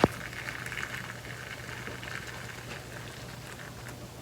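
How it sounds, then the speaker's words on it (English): A steady liquid hiss and bubbling patter of boiling water poured into the corners of a baking dish holding crème brûlée, close and moderately quiet, with a faint low hum beneath. "Grab your boiling water and pour it into the corners of this dish."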